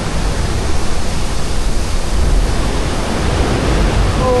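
Loud, steady roar of ocean surf at Sutro Baths on Ocean Beach, a dense broadband wash of breaking waves close by with no clear gaps, and a faint voice briefly near the end.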